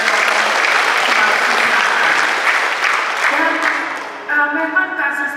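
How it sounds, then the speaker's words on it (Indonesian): A large audience at an official Indonesian government event breaks into loud, sustained applause that gradually fades, and a voice starts speaking in the final seconds. "Tepuk tangan untuk seluruh jajaran"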